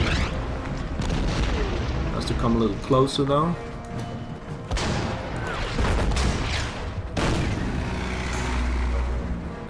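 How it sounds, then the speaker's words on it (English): Artillery shelling a concrete bunker in the strategy game Order of Battle, Tobruk scenario; deep booming explosions and rumbling blasts recur under someone talking, with a whistling tone midway. "Artillery will start working on the concrete bunker."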